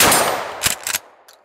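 A Mossberg 500 shotgun fires at a steel plate: a loud blast decaying over a second, then two sharp impacts close together and a faint ring from the steel as it fades out.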